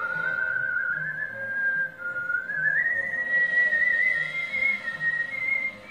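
Whistling of the tune Arirang by a Korean whistling performer wearing a Halloween mask, a clear, sustained melody with slow pitch glides, continuous and close over a low background murmur.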